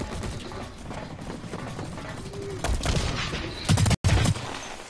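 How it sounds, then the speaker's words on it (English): Rapid gunfire bursts in the online shooter Blacklight: Retribution, dense crackling shots layered under a constant game background, with louder close volleys near the end and a brief dropout. "Somebody's shooting me already."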